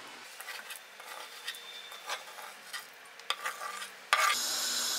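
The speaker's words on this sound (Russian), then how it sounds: "И все это заново обжариваем." Tomatoes and onion fry in a pan with a steady soft sizzle, light scrapes and taps of stirring recurring throughout, and the sizzle swelling louder near the end.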